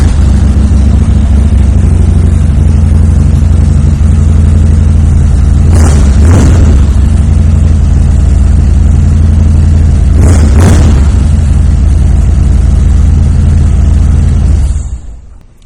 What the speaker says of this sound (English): I am going to take the opportunity right now to fire this bike up.